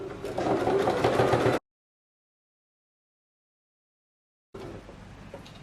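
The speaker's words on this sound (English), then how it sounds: "then you're going to continue stitching" A sewing machine runs steadily while stitching in a zipper, a close whirring burst that cuts to total silence for several seconds before a fainter stretch of running resumes.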